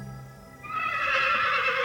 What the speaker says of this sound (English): Cut it out, you dumb horse!